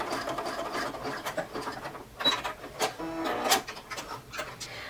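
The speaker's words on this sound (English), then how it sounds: "get it under the presser foot and then just zigzag over those edges" Sewing machine running a zigzag stitch over fabric edges and elastic on a scrunchie under the presser foot, a steady close mechanical whirring with rhythmic ticking throughout.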